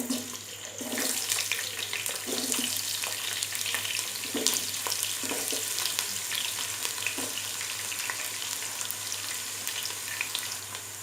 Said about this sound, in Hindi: सबसे पहले प्याज़ों को हल्का ब्राउन कर लेंगे